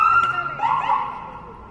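An ambulance siren wails through downtown traffic at the start of rush hour, a sustained rising and falling tone under a steady street bed, fading slightly toward the end.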